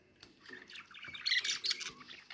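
A pet parrot gives a run of harsh squawks and chirps, quick and irregular, growing louder toward the middle, heard close and alone without speech.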